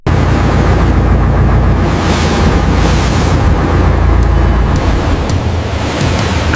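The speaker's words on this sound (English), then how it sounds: "The audio features the sounds of a large ship's engine, churning water, wind," Large fishing ship at sea, with a steady loud roar of engine, churning water, wind and waves running throughout, no voices.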